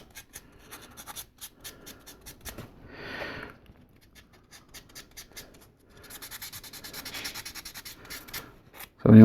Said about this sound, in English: But I sand until all the little imperfections are gone.